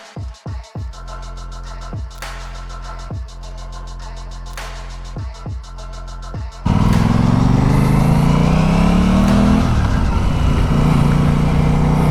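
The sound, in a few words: Aprilia Tuono 660 Factory motorcycle riding on the road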